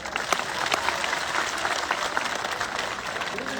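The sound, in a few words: applause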